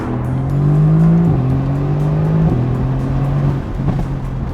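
A Mercedes-AMG GT C sports car engine roars steadily under acceleration, its drone dropping abruptly at three quick gear shifts before a final blip near the end.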